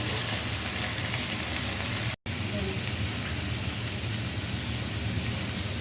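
Chicken frying in a pan with red soy sauce makes a loud, dense, continuous sizzle and hiss, broken by one brief moment of silence.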